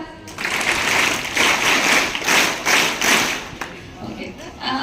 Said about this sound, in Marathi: सगळे स्वतःसाठी एकदा तीन टाळ्या वाजवा